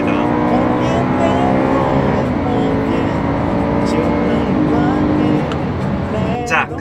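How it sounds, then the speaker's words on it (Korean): A BMW E92 M3 with its naturally aspirated, individual-throttle V8 revs loudly with a smooth, high-pitched engine note, heard close from inside the car. "고음의 매끈한 엔진음을 좋아하시는 분, 그리고 8기통의 새끈하고 부드러운 어떤 엔진 필링을 느끼고 싶은 분은"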